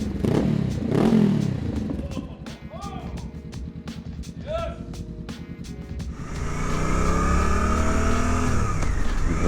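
A Suzuki GSX-8R motorcycle engine idles with a steady, close-up putter, then rises into a loud, sustained rev in the closing seconds, while someone talks over it.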